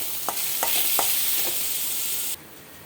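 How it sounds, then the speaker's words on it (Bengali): Washed, drained foxtail millet rice hits hot ghee in a pan for pulao, giving a close, steady sizzle broken by a few sharp stirring clacks before cutting off abruptly. "জল ঝরানো ধোয়া কাউনের চাল, এটা আমি গরম ঘিয়ে দিয়ে দেবো। ভাজবো একটু।"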